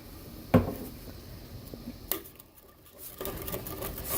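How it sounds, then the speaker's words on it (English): Beef bone broth hits a hot soup pot for deglazing, with a sharp clatter and burst of sizzle, then a second splash and a low bubbling hiss as the bottom is scraped. "now, I'm going to deglaze with the pint of beef bone broth"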